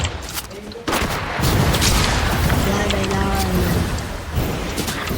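Loud gunshots and bursts of fire ring out in an online shooter game, with repeated sharp reports and booms under excited voices talking.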